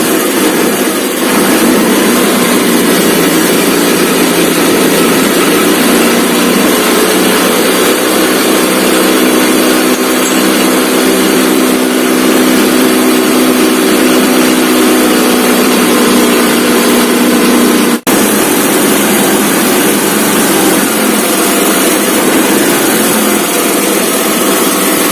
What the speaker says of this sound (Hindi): मैं स्टार्ट करता हूँ स्कूटर को।